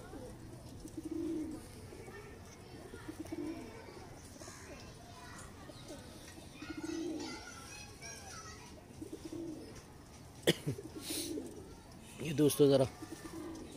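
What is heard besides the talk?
Salara Teddy pigeon cooing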